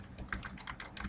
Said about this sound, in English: Let me type in the name of this page